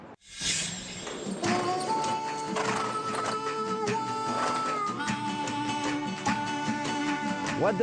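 Horse neighing loudly and close, followed by steady clip-clop of hooves, at a Brazilian horse-training demonstration with horse whisperer Monty Roberts; no talking.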